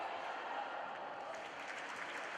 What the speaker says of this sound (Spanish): El fuerte aplauso